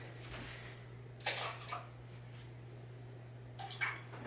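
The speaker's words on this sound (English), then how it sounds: "and you just pour it in the water." Water conditioner poured into turtle tank water, heard as two brief soft splashing pours against a steady electrical hum, faint and close.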